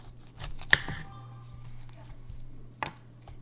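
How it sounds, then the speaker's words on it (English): A sharp knife cutting and chopping food in a home kitchen, with a couple of crisp, isolated cuts over quiet room sound and faint background voices. "cut the sides off and chop it up"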